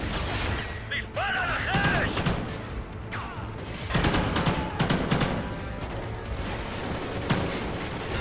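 Rapid automatic turret gunfire in Call of Duty: Ghosts rattles on continuously with bursts of shots and impacts, loud and dense throughout, with a voice talking now and then.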